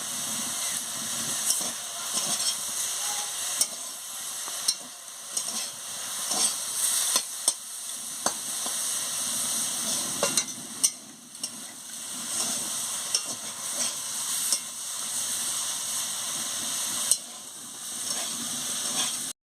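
Boiled greens, sushni shaak, being stirred in a pan on the stove, with steady scraping and stirring strokes over a soft steamy sizzle, close and moderately loud with no talking.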